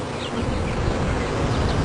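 Bees foraging for pollen around blueberry crops, a close, continuous buzzing drone that stays loud and even for about two seconds.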